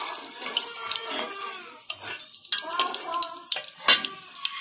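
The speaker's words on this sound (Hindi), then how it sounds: "इसको हम थोड़ी देर के लिए फ्राई कर लेंगे।" Whole spices (black peppercorns, cloves, cinnamon and star anise) fry in hot oil in a kadai with a faint, steady sizzle broken by scattered crackles and pops.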